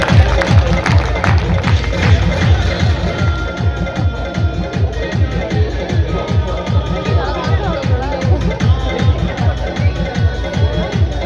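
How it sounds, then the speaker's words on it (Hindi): An audience at a college programme claps to welcome a guest, a loud, dense, steady applause with rhythmic clapping throughout and crowd noise mixed in. "सभी जोरदार तालियों से स्वागत करें"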